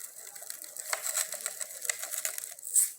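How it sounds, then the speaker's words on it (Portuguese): Dry sand poured into a bowl during a classroom mixture demonstration, a faint gritty hiss with small scattered ticks of grains, ending in a brief brighter clink, no talk. "vou colocar areia aqui na vasilha."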